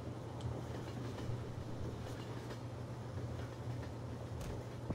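A train in Garry's Mod rolls along with a steady, low mechanical rumble and faint intermittent clatter, fairly quiet and unbroken throughout.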